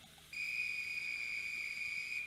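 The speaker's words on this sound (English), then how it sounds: "And I'm going to blow the whistle." A steam locomotive's whistle on a small-scale train sounds one steady, loud, sustained tone for about two seconds, starting abruptly after a quiet moment.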